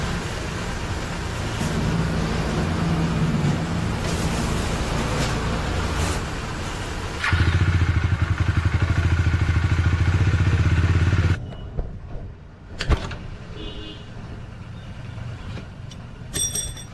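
A Bajaj Dominar 400 motorcycle idles, its engine running steadily and loudly for about eleven seconds before it cuts off, leaving quieter background with a few clanks.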